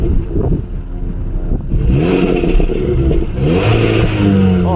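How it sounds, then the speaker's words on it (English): A Hyundai Kona N Line 1.6 turbo engine revved up and settling back, loud rising engine roar with clattering and burbling exhaust as the revs drop. "Let me rev up the engine so you can see what I'm talking about."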